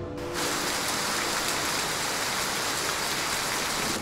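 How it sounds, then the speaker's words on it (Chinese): Steady, dense rain falls outside, a continuous hiss of drops on surfaces that starts abruptly and stays loud and even throughout, with no voices. "外面下雨呢！"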